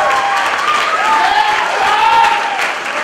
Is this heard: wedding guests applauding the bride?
yes